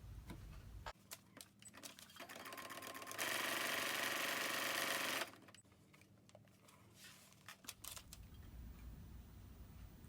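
A sewing machine stitches fabric scraps onto adding machine tape, a quiet mechanical run broken by a louder, steady whir of a few seconds in the middle, close by with no talking.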